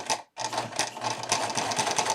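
A sewing machine stitches Velcro onto a cloth diaper, its needle running in a fast, steady mechanical chatter up close, broken by one brief pause near the start before resuming continuously.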